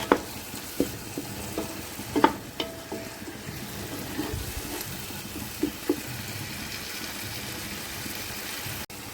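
Homemade ginger garlic paste sautés in a pan with a steady low sizzle, broken by scattered sharp spatula clicks and taps throughout.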